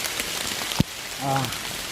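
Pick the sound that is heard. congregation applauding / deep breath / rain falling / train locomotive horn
rain falling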